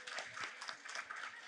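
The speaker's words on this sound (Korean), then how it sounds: "다시 한번 옆 사람에게 박수 치면서 준비하겠습니다." Faint, quick clapping from an audience of Korean heritage-school teachers at a training session, a dense patter of hands applauding one another, heard from a distance and fairly soft.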